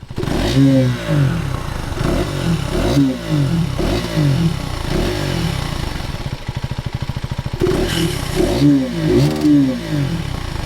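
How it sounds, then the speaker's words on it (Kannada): KTM Adventure 390 motorcycle with underbelly exhaust being revved: repeated close, loud rising-and-falling engine revs with a brief steady idle burble in the middle, no talk. "ಇದರ ಒಂದು ಎಕ್ಸಾಸ್ಟ್ ನೋಟನ್ನು ನಾನು ನಿಮಗೆ ಕೇಳಿಸ್ತೀನಿ ಹೇಗಿದೆ ಅಂತ"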